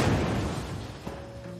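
A film sound effect of an explosive going off inside a safe's pipe: a muffled, low boom at the start that fades into a rumbling tail, fairly faint overall.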